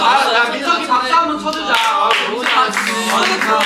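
A small group claps for a contestant on a Korean relay quiz show, a brief round of hand claps mixed with overlapping voices, chatter and light laughter close to the microphone.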